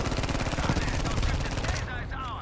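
Type 2A automatic rifle in Battlefield V fires a rapid sustained burst of gunshots, loud and close, cutting off abruptly near the end, with some talk.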